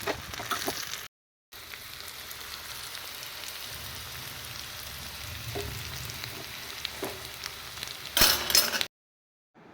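Steady hiss of rain pouring down, dense and continuous, with occasional crackling drops and a brief louder burst near the end.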